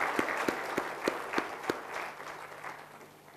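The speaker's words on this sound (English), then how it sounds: "If we can give these folks a round of applause" A conference audience gives a round of applause, scattered claps with a few sharper hits near the start, fairly distant and soft, thinning out toward the end.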